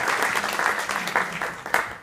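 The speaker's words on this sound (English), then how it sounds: "Okay, applause for Elena." A meetup crowd breaks into brief applause for Elena, a lively, uneven burst of clapping with sharper individual claps that fades quickly.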